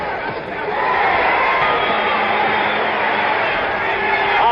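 Boxing arena crowd at a Muhammad Ali versus Ron Lyle fight, a steady, dense roar of many voices filling the hall, sustained and fairly loud throughout with no single voice standing out.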